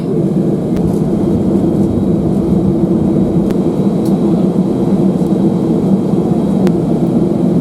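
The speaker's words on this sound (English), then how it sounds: "Aircraft comes to a full stop after landing." Steady low cabin roar of a Swiss Airbus A319 rolling along the runway after landing at Zurich, a continuous rumble with faint occasional clicks and no talk.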